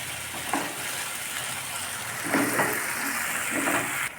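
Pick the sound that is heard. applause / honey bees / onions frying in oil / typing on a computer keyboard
onions frying in oil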